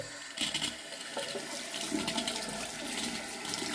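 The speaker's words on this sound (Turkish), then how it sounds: "Sıcak su çıkışını kontrol edelim." Water runs steadily from the hot outlet of a newly installed bathroom sink mixer faucet, a close, even splashing stream that starts suddenly and continues without a break.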